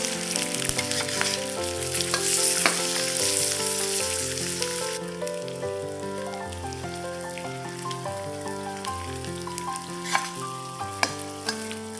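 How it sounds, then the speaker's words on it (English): Pork ribs fry in a pan for a Chinese-style braised rib dish, a constant close crackling sizzle with scattered pops, partly masked by background music, and no talking. "Flip the pork ribs over and fry the other side as well."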